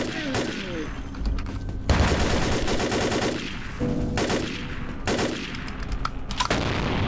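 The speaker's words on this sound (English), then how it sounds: "Shotguns are bad. Why are you using them?" Shotgun fire from the video game Vampire: The Masquerade Bloodlines, a series of loud, heavy blasts with sustained roaring gunfire between them, close and dense across the whole stretch.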